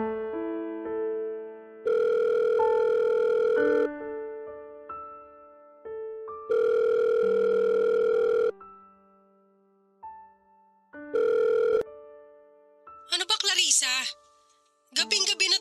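A telephone rings late at night in a home, three long electronic trilling rings separated by pauses, clear and steady, followed by a voice speaking.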